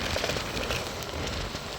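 Rain falling during a motorcycle ride, a dense, steady hiss and patter of drops mixed with road and wind noise, with no talk.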